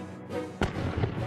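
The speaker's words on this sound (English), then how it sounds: "He imagined firing a cannon from the top of an extremely tall mountain." A cannon fires once as a sharp, close boom, followed by a rolling, crackling rumble over a dense background bed.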